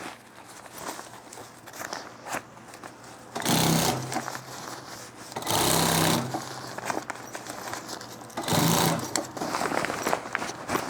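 A sewing machine stitches an SDL backpack, running in three loud bursts with a steady motor hum and quieter pauses between them. No one talks.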